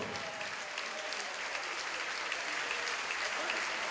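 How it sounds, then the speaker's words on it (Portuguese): A church congregation claps continuously, a steady wash of many hands applauding at moderate distance that stays even in level throughout. "Vamos aplaudir mais, igreja."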